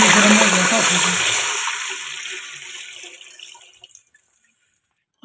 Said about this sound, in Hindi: 1 किलो चावलों के लिए हम 1 लीटर पानी ऐड कर रहे हैं जी।